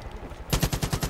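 A Kalashnikov rifle in Far Cry 5 fires a quick automatic burst of about six or seven sharp, evenly spaced shots, loud and close, after a brief quiet moment.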